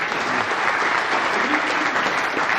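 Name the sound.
audience applause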